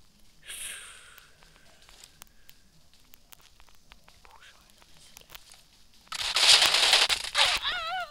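Automatic gunfire bursts in the video game PUBG, a loud dense burst near the end after quieter scattered shots and clicks, with a voice murmuring earlier.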